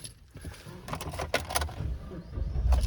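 Car keys for a 2011 Suzuki Grand Vitara jangle and clink in short metallic bursts, fairly close, over a low rumbling background with some handling noise.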